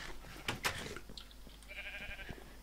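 Sheep in the Minecraft video game let out short bleats, a couple of quick calls followed by a higher drawn-out tone, fairly faint and without talk.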